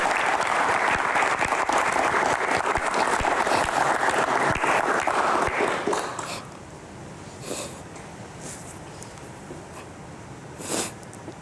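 A hall audience bursts into dense applause for about six seconds, then it fades to a few scattered claps and murmurs.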